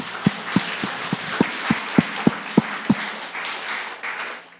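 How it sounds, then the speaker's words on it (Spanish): A church congregation claps during a sermon, first in a string of about ten sharp, evenly spaced beats, then dissolving into a softer scattered applause and murmur toward the end. "aplaude si quieres a Dios"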